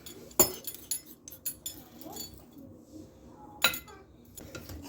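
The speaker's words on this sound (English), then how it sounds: "and then just stir everything together." Persimmon pudding batter is mixed by hand in a bowl, with a spoon clinking and tapping against the sides in irregular bursts over soft scraping, close by and without speech.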